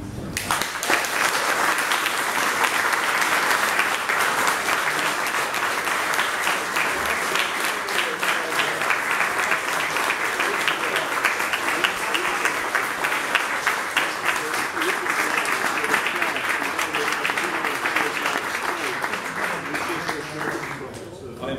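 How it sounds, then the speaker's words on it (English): A concert audience gives sustained applause as a tribute to people who have died, with dense, even clapping filling the hall throughout and easing slightly at the very end. "just 30 seconds of applause for the people who are gone"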